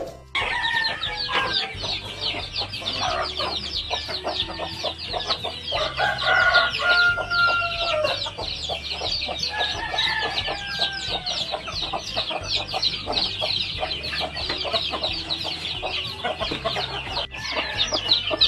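Native and Rhode Island Red chickens and chicks cluck and chirp continuously in a farm coop, with a rooster crowing among the dense, steady flock noise.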